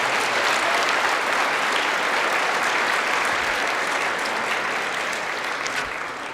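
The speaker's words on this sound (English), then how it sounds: "Please give those students a round of applause." A high school awards-day crowd gives sustained, loud applause for sophomore students, a thick even roar of clapping lasting over six seconds and tapering slightly at the end, with no speech.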